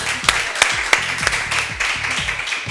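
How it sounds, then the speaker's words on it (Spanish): Spontaneous audience applause fills a hall for Mario "Marito" Altamirano, a steady crowd clapping with a few sharper accents, set against faint background music. "Que recibe el espontáneo aplauso del público presente en la sala."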